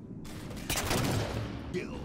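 Gunfire in the Halo video game, a rapid burst of shots ringing out close and loud over a short stretch, with a second weapon sound trailing near the end.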